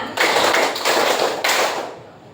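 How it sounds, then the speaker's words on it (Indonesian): A school class claps in unison in rhythmic bursts, three strong rounds of dense group clapping close and loud before fading at the end. "Tepuk satu, tepuk dua, tepuk tiga, tepuk empat, tepuk lima."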